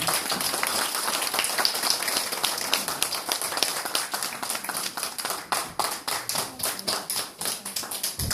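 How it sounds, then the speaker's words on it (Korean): A church congregation applauds in a dense, steady wave of hand claps that stays loud throughout and thins into scattered, separate claps toward the end. "큰 박수로 맞아주시기 바랍니다"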